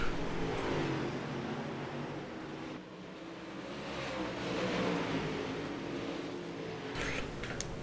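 UMP Modified race cars roar around the Eldora dirt track, a continuous loud engine drone that swells and fades as the cars circle, with a brief dip partway through.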